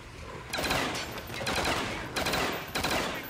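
Rapid automatic gunfire from Call of Duty Zombies on the Kino der Toten map rattles in dense, loud bursts with brief pauses between them, close and continuous, with no talk over it.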